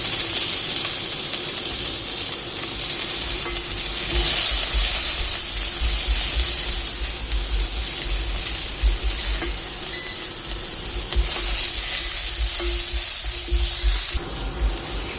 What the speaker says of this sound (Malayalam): വെളിച്ചെണ്ണയിൽ ഒന്ന് ചെറുതായിട്ടൊന്ന് വഴറ്റിയെടുത്താൽ മതി